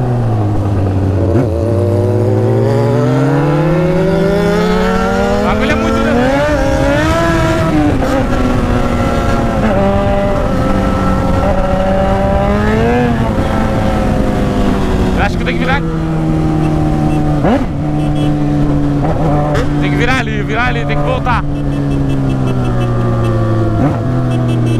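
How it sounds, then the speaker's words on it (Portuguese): A Suzuki GSX-R 1000 SRAD motorcycle engine runs loud and close while being ridden, its pitch climbing and falling through repeated revs and gear changes over a long, continuous stretch. "A moto faz muito barulho."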